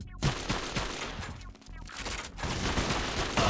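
Gunfire in the video game 50 Cent: Bulletproof: loud, dense volleys of rapid shots that rattle almost without pause, with one brief lull before the firing picks up again.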